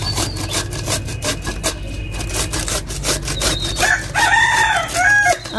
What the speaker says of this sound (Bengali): মুরগি পাখি একদম ন্যাচারাল কিছু শব্দ পাওয়া যায়